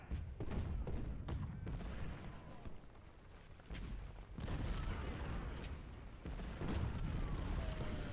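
Booming artillery cannon fire in a Ultimate General: Civil War battle at Chickamauga, repeated heavy thuds and rumbling blasts rolling across the whole stretch, with a dense battlefield din underneath.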